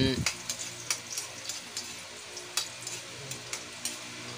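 Ginger added to a hot pan and frying for adobong pusit, giving a continuous close sizzle broken by regular clinks and scrapes of a stirring utensil, with no voices over it.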